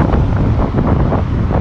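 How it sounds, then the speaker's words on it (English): Strong wind near Montevideo buffets the microphone with a constant loud rumbling roar, steady throughout with no voices. "It's so windy."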